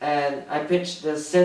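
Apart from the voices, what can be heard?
No everyday noise stands out behind the speech.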